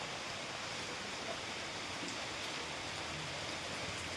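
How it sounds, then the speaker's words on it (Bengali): Monsoon rain falls steadily outside as a continuous, even hiss with no voices. "এরকম বৃষ্টি হচ্ছে বাইরে"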